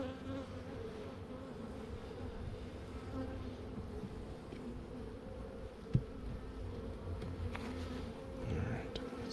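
A honey bee swarm buzzes steadily during a hive frame transfer, a dense continuous drone close by with one brief sharp knock partway through and no talking.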